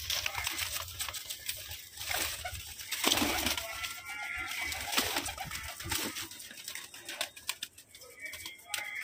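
A crowded flock of pigeons coos continuously at close range, with bursts of wing flapping and light pattering from birds jostling for space to perch.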